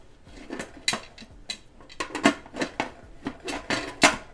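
A metal lid being worked onto a tomato canner filled with jars of diced or sliced tomatoes gives a series of close, sharp clanks and scrapes of metal on metal, arriving in irregular bursts with short gaps between them.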